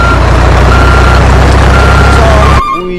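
A toy dump truck, a tronton mining truck, sounds loud steady reversing beeps, a continuous electronic warning tone close up that cuts off abruptly near the end.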